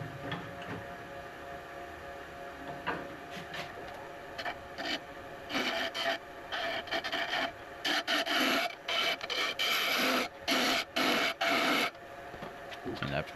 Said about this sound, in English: I decided to change tools here over to the spindle gouge.